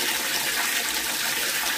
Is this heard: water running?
yes